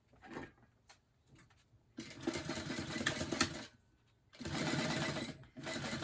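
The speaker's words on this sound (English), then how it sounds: "I'm going to top stitch the short edges and baste the long edge that's open" A home sewing machine top-stitches the short edges of a fabric purse in two steady rapid bursts, close and clear, separated by quiet pauses, with a short stop-start run at the beginning.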